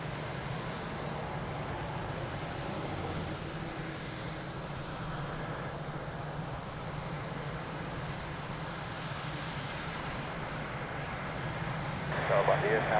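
A fixed-wing airliner powers up for takeoff on runway 02 at Lisbon Airport, its engines a broad steady roar, close and loud, swelling slightly toward the end.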